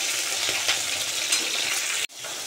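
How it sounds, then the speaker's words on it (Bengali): Drumstick stalks fry in hot oil for a shukto, giving a steady, close sizzle throughout that cuts off abruptly near the end. "সজনা ডাঁটাগুলো ভেজে নিচ্ছি।"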